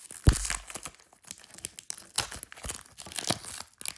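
Tamper-proof cellophane wrapper on a 1993 baseball card pack is torn open up close, with a sharp rip followed by bursts of crackling and crinkling plastic.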